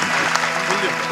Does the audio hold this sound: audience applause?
yes